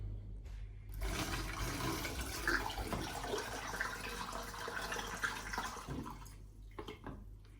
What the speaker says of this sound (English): Now with the aid of a funnel, I'm going to add the sugar water into the demijohn.